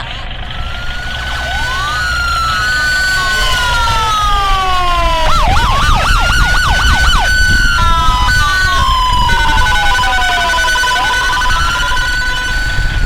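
Municipal public-safety siren from a Thai subdistrict council, a loud wailing tone rising and falling in long sweeps with a brief rapid warble, heard near and steady, with faint background voice under it.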